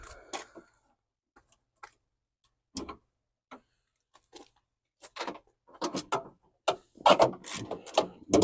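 A ratchet turns a 10 millimeter socket on a 2005 BMW X3, making sparse, close clicking bursts that grow busier and louder toward the end.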